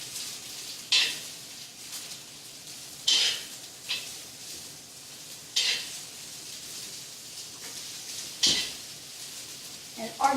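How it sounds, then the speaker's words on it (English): Garlic ginger shrimp and vegetable stir-fry with green onion sizzles steadily in a hot pan while a utensil stirs and scrapes it in regular strokes about every two to three seconds, close and clear. "I'm just going to give it a mix, have everything well combined"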